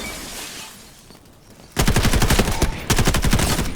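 Rapid automatic gunfire in the Delta Force video game, a loud sustained burst of closely spaced shots that starts abruptly after a quieter stretch, pauses briefly, then resumes.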